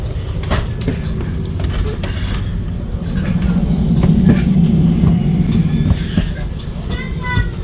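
A steady low rumble inside a moving train's restaurant car near Milan, Italy, swelling midway, with scattered clicks and rattles and faint voices in the background.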